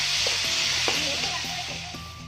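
Shallots and onions stir-fry in a pan, a loud steady sizzle with a few soft scrapes of a spatula over a short stretch.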